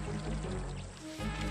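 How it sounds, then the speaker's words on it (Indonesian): Rushing river water for a children's story about a turtle swept away by a strong current: a steady, dense wash of flowing water that dips briefly near the end before surging back, with no voices. "aliran air di atas sangat deras"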